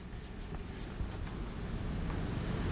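Pen or marker scratching across a flattened paper cup, faint, close and continuous with soft irregular strokes over a low background rumble.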